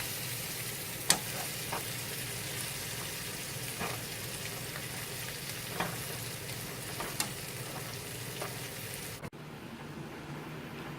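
Oxtails brown in a frying pan for a Congolese family dinner, giving a steady, even sizzle with a few sharp pops and clicks. The sizzle stops abruptly near the end, leaving a quieter hiss.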